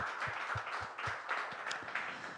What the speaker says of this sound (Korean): 자기 자신을 향해서 또 옆에 있는 분들을 향해서 잘하고 있다고 서로를 위해서 박수 한번 우리 했으면 좋겠습니다